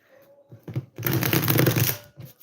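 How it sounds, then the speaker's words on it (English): Cards are riffled and shuffled in a few quick bursts, with a longer crisp flurry in the middle, close and clear. "Let's shuffle them up."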